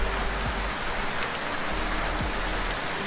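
Steady rain pours down in a dense, even wash of noise. A few low thuds break through now and then, and no one speaks.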